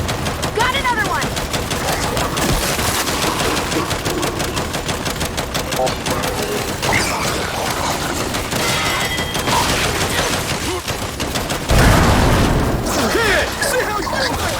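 Turrets in the video game Gears 5 fire rapid, continuous bursts of gunfire with heavy booms near the end, while voices shout over the shooting.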